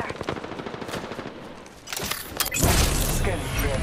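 Automatic weapon fire in the Apex Legends video game, rapid bursts of shots building louder toward the end, with game voice lines spoken over it.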